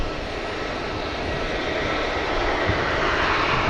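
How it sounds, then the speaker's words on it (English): A heavy aircraft at Manchester Airport gives a loud, steady engine roar that stays broad and constant throughout, with no other sounds standing out. "Every chance that could be the next heavy departing aircraft."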